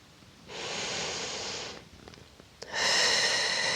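Long, deep breaths during a Pilates exercise, heard close and loud with no talk: a sustained airy exhale, a brief pause, then another strong breath.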